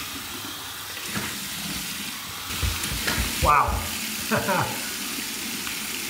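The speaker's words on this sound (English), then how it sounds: "Here's my warm water rinse." Warm water splashes and sloshes as a face is rinsed after a wet shave with soap, a few close wet bursts over a running-tap hiss, with a brief exclamation from a voice.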